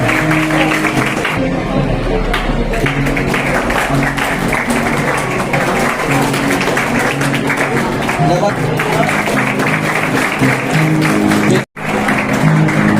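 Audience at a school farewell ceremony clapping, a sustained, dense patter of many hands with crowd murmur and a voice over a loudspeaker, briefly cutting out near the end.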